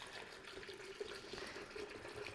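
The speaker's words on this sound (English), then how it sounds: "I'm just gonna fill this about halfway with water" Water running from a tap into a bottle being filled about halfway for making raspberry mead, a steady close rushing pour with a faint rising tone as the vessel fills, heard alone.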